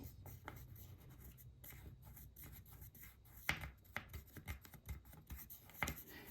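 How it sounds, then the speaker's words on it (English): A pencil is run along a template on copper, making close, quiet scratchy strokes in a series of short irregular passes with small taps between them; no one speaks. "I'm just gonna run this pencil"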